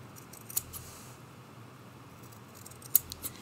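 Scissors trim the small corners of a sewn fabric appliqué Christmas tree ornament, giving two crisp close snips about two and a half seconds apart over quiet room tone.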